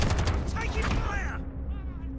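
Gunfire in the Call of Duty Modern Warfare video game, a dense burst of rapid loud shots mixed with in-game voices, fading out as the firing stops.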